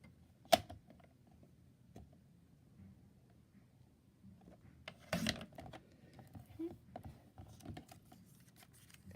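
Faint, scattered snips and paper rustling as small pieces of 6x6 paper are cut diagonally with scissors for a mini envelope craft, quiet and close with irregular timing.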